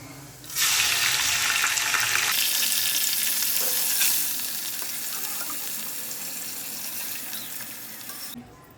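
Soaked rice dropped into hot fat in a pan, bursting into a loud hissing sizzle that settles into a steadier, softer fry as it is stirred, with no talking over it.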